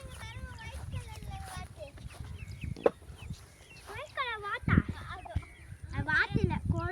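Chickens cluck in a village yard, short scattered calls mixed in with nearby people chatting.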